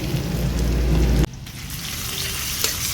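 Chopped garlic and ginger fry in hot oil for a chicken stew while being stirred, a loud close crackling sizzle that drops abruptly halfway and continues as a softer hiss, no talking.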